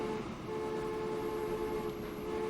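Trains backing up in the video game Transport Fever, a sustained tonal rumble with a steady horn-like drone holding throughout, moderately loud and unbroken, with no talk over it.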